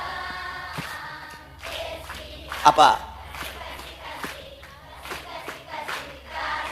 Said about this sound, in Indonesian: Tepuk tangan buat orang dong